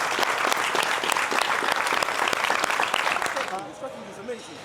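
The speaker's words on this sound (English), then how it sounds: "give yourselves a round of applause for the work you put in today" A group claps loudly after a martial arts training session, steady dense applause for about three and a half seconds that then stops abruptly, leaving quiet room sound.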